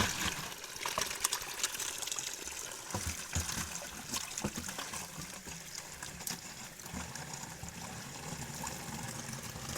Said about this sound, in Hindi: अब पानी भर के ले जाते हैं यहाँ पे से।